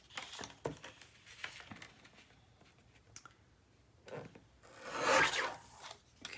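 Paper border being trimmed for a winter-themed mini album, giving close, faint rasping and scraping strokes in uneven bursts, with a louder, longer cut near the end and no talking.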